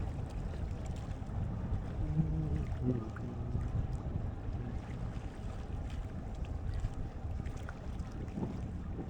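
Wind gusting around 20 knots buffets a sailboat at sea on the Caribbean, making a constant low rumbling roar against the microphone with the wash of water beneath and no speech.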